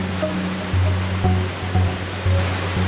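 Hot water and grist pour together into a distillery mash tun at the strike point, a steady close rushing like a small waterfall with a low mechanical hum pulsing underneath.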